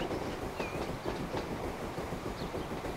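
Steam train passing nearby in the railway simulation game Transport Fever, a continuous rumbling roll with rhythmic wheel clatter over the track, loud and even, with no one talking.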